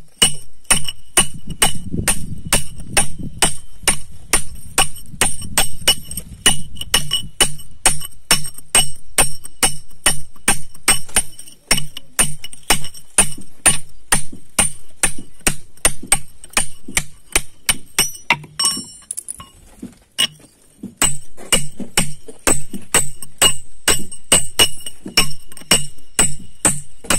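Stone struck by a hammer during stone cutting in Pombos, Pernambuco, with steady, evenly spaced sharp metallic blows repeating close by for the whole stretch and only a short lull near the end.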